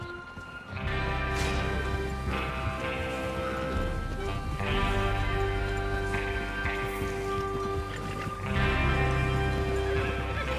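Horses in Red Dead Redemption 2 whinny and snort over steady clip-clopping hooves, with a rushing, rain-like wash of background noise throughout, loud and close.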